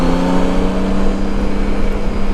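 Smooth, continuous engine drone from a 2014 Honda Goldwing motorcycle under way, a steady hum with no speech over it.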